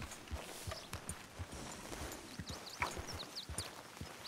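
Horse hooves in the video game Red Dead Redemption 2, heard as faint, irregular clip-clop steps against quiet ambient outdoor sound.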